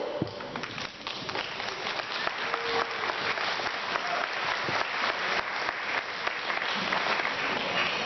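Sustained applause from an audience at the TG15 opening ceremony, a dense, steady wash of clapping that carries on evenly for the whole stretch with no voices over it.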